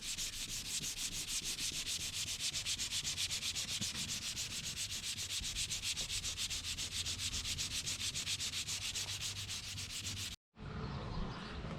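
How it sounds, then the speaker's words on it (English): Wet sanding a new car hood with water-soaked sandpaper: a continuous fast rhythmic rasp of back-and-forth strokes, close and steady for about ten seconds, with a brief pause and then another short burst of rubbing. "So I actually decided to go with the wet sanding method because the paper was gumming up really fast."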